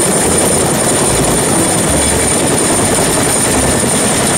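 A toy helicopter from a sand-filled toy truck gives a steady, loud whirring drone that continues unbroken throughout, with no voices over it.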